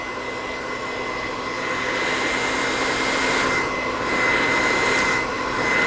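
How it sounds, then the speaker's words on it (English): A blow dryer runs in one continuous, loud and steady roar while hair is straightened, close up and with no talk. "this is when I call myself straightening the hair with the blow dryer as opposed to using a lot of extra heat"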